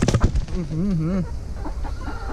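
Backyard egg-laying hens cluck and give a drawn-out wavering call nearby, a clear rising and falling note lasting under a second, with other farmyard sounds and scattered clucks around it.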